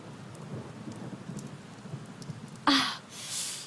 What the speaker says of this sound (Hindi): मैंने कहा था ना कि बारिश होगी।